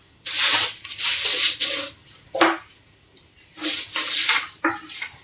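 Scissors cut through blouse fabric in a series of close, rasping snips, several bursts separated by short pauses.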